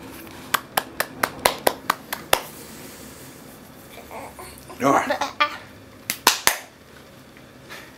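A baby claps small hands in a quick series of sharp slaps, then pauses while an adult voice and baby babble are heard, followed by a few more claps.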